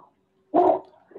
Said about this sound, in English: your dogs are barking